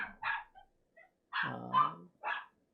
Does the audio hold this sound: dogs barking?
yes